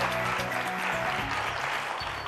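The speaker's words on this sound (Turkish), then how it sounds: "Bu dünya tatlısı insanlara bir alkış daha" A television game show studio audience applauds in a continuous, moderately loud patter of many hands, with faint background tones underneath.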